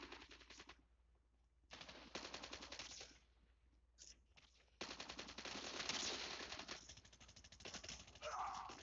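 Video game gun firing in rapid automatic bursts, loud and close, broken by short gaps, with a person speaking briefly between volleys.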